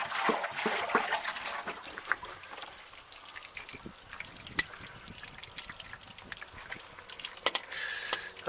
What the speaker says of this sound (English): we should see the water leak out all the same.